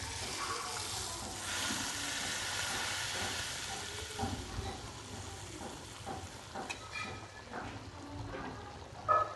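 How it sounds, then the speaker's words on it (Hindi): Red chillies sizzling in a little hot oil as a tempering for chickpea chikar chanay, a steady moderate hiss and crackle that stays fairly even and flares slightly near the end. "थोड़े से तेल में हम थोड़ी सी सुरख मिर्च डाल के इसके ऊपर हम तड़का लगाएंगे उसका"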